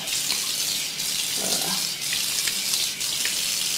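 Water runs steadily from a tap while a face is splashed and washed during a makeup test, a continuous close hiss with faint splashes and no talking.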